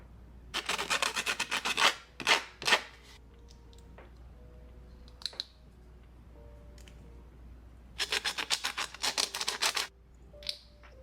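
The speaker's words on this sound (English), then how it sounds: "you're going to want to sand down these little frills to make it fit" Sandpaper rasps against the small plastic frills of a Neopixel connector holder for a lightsaber build, in two clusters of quick back-and-forth strokes near the start and again near the end, with quiet pauses and faint handling between.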